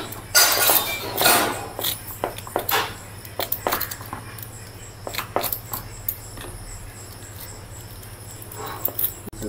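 A knife slices ingredients thinly on a board for a village-style chicken kosha. It makes a string of irregular light taps and clicks, close and moderately loud, with quieter stretches in between and no talking.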